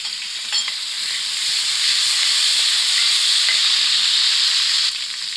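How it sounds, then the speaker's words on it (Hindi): Ginger garlic paste fries in a pan with a steady, loud sizzle while a spoon stirs it now and then, part of cooking a lobia curry. No voices are heard. "ये हमने एक चम्मच अदरक लहसुन का पेस्ट डाल के इसको अच्छे तरीके से ब्राउन कर लिया।"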